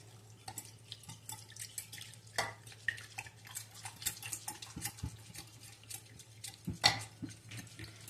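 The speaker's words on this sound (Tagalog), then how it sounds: "1 egg, sugar, yes, and mix" Egg, sugar and yeast being mixed in a bowl, heard as soft, irregular wet stirring with light taps and clinks against the bowl, quiet and close with a low hum beneath.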